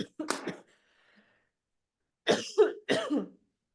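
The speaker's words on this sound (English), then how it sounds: "Sorry, I have to cough." Two or three harsh coughs close to the mic, following a brief bit of voice, then silence.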